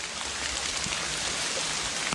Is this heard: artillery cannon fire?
no